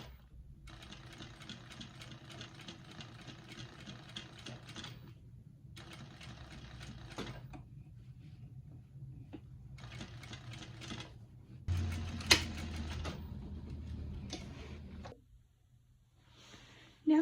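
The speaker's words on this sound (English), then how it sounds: "pivot the fish head as you go and sew along that side" Sewing machine stitching a fish head onto a rainbow trout crossbody bag, several quiet bursts of rapid mechanical ticking separated by pauses, ending with a low hum and a thump.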